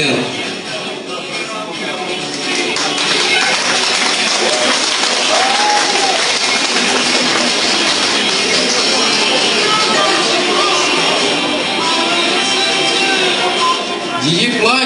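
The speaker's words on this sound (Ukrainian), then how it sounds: "Ваші овації, наша модель номер" A crowd at a university beauty pageant and fashion show gives a loud, sustained ovation for a model. Continuous clapping and cheering fills the whole stretch, with voices mixed in and a whistle-like rise near the end.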